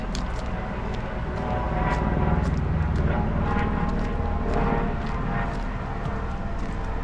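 A steady helicopter rotor drone over the Niagara River Gorge fills the scene, loud and continuous, with wind and faint background noise mixed in.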